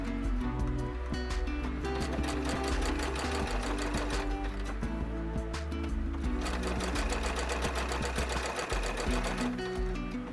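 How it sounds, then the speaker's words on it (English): A sewing machine stay stitches along the curvy edge of a fabric doll corset, running in a loud, steady mechanical whir with a fast needle rhythm nearly the whole time. "I'm going to stay stitch this curvy edge to hold all my fabrics in place"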